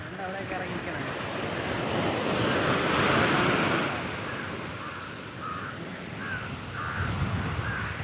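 Sea waves surge and wash ashore at Samudra beach in Trivandrum, a steady roar swelling in the middle and easing off, with crows cawing and wind buffeting the microphone.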